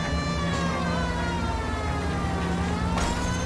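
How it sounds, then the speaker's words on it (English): Police siren wailing in the L.A. Noire video game, a steady rising and falling tone sustained throughout over engine rumble, with a brighter burst near the end. "There's a siren for a reason, you know?"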